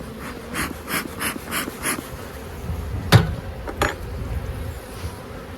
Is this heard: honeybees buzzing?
yes